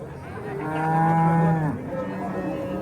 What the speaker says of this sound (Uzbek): Voy, bu katta sigir ekan lekin.